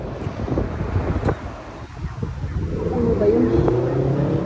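Steady wind buffets the microphone outdoors at a gas station in America, a constant broadband rush running throughout with some faint background noise.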